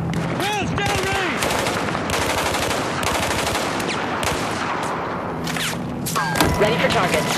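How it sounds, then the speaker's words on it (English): Battlefield 4 gunfire, rapid loud automatic bursts and shots rattling throughout amid a busy battle soundscape, with voices shouting over it. "I'm firing!"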